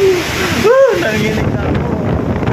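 Strong wind and rain roar steadily during a flood, a dense, broad rush buffeting the microphone, with a brief tonal voice-like sweep near the start.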